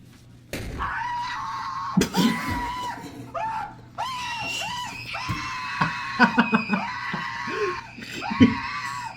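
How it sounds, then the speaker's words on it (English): A boy screams at the top of his lungs after popping a balloon, loud repeated shrieks with sharp bursts running through the whole stretch, alongside other yelps and thumps. "he pops the balloon, prompting him to scream at the top of his lungs"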